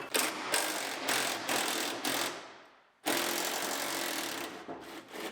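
A ratchet wrench loosens the fuel tank strap bolts under a Mustang GT parts car, letting out long, loud runs of fast clicking close by. The clicking breaks off briefly partway through, then starts again.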